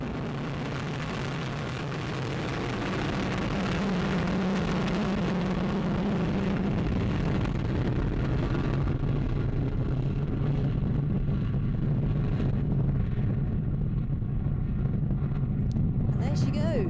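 Vega rocket VV06 igniting and lifting off at night, a deep rumbling roar that swells from a softer start into a loud, sustained broadband thunder, with speech running over it.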